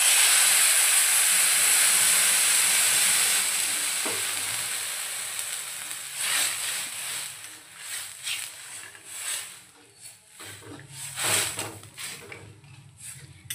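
Water poured into hot tempering (phodni) for bhagar upma hisses and steams loudly at first, a broad sizzle that slowly fades as bubbling and stirring take over.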